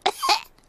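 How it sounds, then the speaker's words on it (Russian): A cartoon child from Peppa Pig gives a short, close double cough, two quick raspy bursts in under half a second, with no other sound around it. "У меня кашель."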